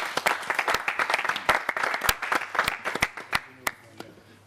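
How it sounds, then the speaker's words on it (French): Enthusiastic applause from an audience, dense clapping that gradually thins out toward the end. "Je voudrais qu'on applaudisse très fort pour le sujet."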